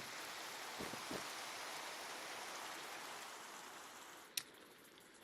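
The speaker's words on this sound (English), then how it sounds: "can it stop raining, dude? Why is it just constantly raining?" Rain in a blocky sandbox video game modpack makes a continuous soft wash of noise, joined by a couple of low thuds early on and a sharp click near the end, with no speech.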